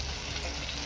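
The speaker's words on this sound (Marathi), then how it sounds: "हे परतून घ्यायचं" Field beans (pavta) sauté in hot oil in a pan, giving a steady, close, fairly soft sizzle with no talking over it.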